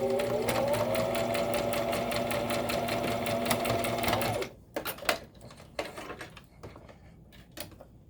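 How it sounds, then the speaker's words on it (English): A sewing machine stitching darts runs loud and continuous for about four seconds with a steady motor whine, then stops abruptly and leaves sparse clicks and fabric handling. "I'm trying to sew right in that fold."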